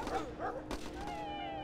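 Several dogs in the strategy game Battle Islands Commanders bark and yip in quick succession, close and loud, then give way to a lingering tonal hum.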